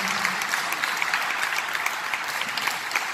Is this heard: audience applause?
yes